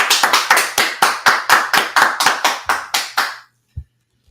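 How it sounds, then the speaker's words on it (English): An audience claps in unison with about a dozen sharp, evenly spaced claps over roughly three seconds, loud and close, followed by a single faint thump after a short silence. "let's clap it up"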